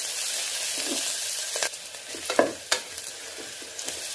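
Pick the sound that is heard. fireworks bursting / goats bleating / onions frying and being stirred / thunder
onions frying and being stirred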